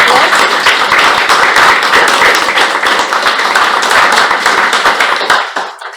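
A big round of applause at a Toastmasters club joint meeting: dense, loud clapping from a roomful of people that holds steady for several seconds before tapering off at the end.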